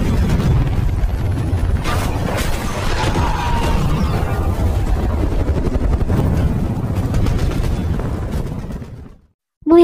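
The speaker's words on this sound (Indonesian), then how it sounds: "helikopter pemburu pun tiba dan langsung menghancurkan 2 mortir dan sebagian pasukan" An attack helicopter arrives over a battle against rebel forces, and a loud continuous rotor roar fills the scene, broken by booming impacts and crashes. The sound cuts out briefly near the end.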